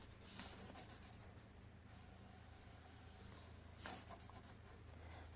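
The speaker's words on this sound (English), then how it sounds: "Take your paper, open it up, and just start coloring whatever you want to do." Markers coloring on a sheet of folded paper for a kids' craft, with soft, close scratchy strokes and rubbing, faint and continuous with brief pauses between strokes.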